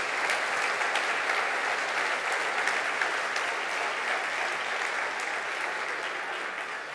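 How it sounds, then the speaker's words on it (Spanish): Steady, dense applause from a church congregation honoring Jesus Christ during a sermon on Corinthians, a continuous crackle of many hands clapping that holds evenly for the whole stretch and tapers only slightly at the end. "Fuerte el aplauso a Jesucristo."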